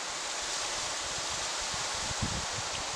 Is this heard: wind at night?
yes